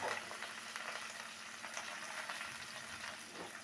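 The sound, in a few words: spices spluttering in hot oil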